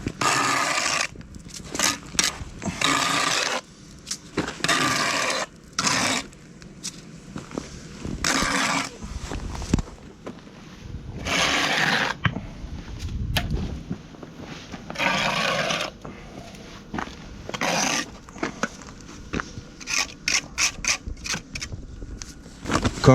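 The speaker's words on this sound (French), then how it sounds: "je le gratte et je l'envoie dans les joints." Trowel scraping excess mortar from the joints of a concrete block wall, a series of rough rasping strokes in uneven bursts, close and moderately loud.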